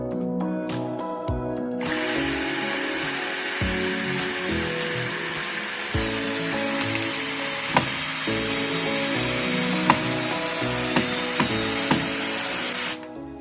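A 12V cordless drill drives a large screw into wood with a steady, continuous motor whine lasting over ten seconds, with several sharp clicks toward the end before it stops.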